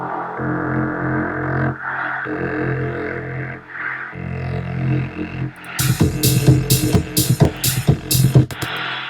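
A soft synth bass line plays in rhythmic phrases of sustained, throbbing low notes, then a busier section with sharp percussive hits and bright bursts joins in, loud and close with no voices.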